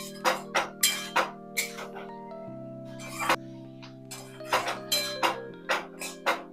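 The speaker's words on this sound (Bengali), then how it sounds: "এবার সমস্ত কিছুকে ভালো করে নেড়ে চেড়ে নেব।" A metal spoon stirs soya chunks with sugar in a pan, giving a rhythmic run of bright clinks and scrapes against the metal, close and clear with no talking.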